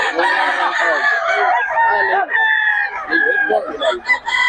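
Roosters at a gamecock sale, crowing and clucking loudly and close, with overlapping calls filling the whole stretch.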